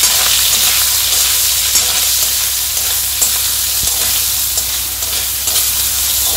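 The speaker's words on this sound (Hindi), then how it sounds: "इसमें हम डालेंगे सोया चंक्स, जिसको मैंने अच्छे से धो लिया था, और निचोड़ लेना दबा के। अब इसको हम 5 मिनट में सौते करेंगे।" Soya chunks, washed and squeezed, sauté in oil in a kadhai with a steady close sizzle and frying hiss, broken by occasional stirring scrapes; no one speaks.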